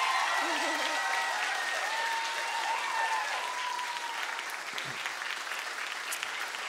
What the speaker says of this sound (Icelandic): takk æðislega fyrir komuna og gefum Ívu gott klapp